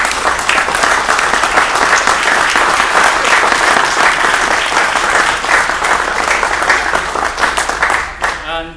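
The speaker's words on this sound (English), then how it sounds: "wanted to have a round of applause" An audience at a USC School of Architecture fundraiser applauds in a dense, loud, sustained wash of clapping that fades out near the end, with a voice briefly audible as it dies away.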